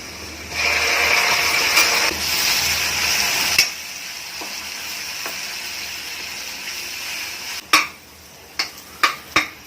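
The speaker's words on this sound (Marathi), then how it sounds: "मसाल्याला तेल सुटेपर्यंत आपण परतवत राहायचं।" Ground masala is stirred and sautéed in oil in a pan after the onions have turned golden, for a black rajma and green bean curry; steady close sizzling with stirring, then quieter frying broken by a few sharp clinks of the spoon against the pan.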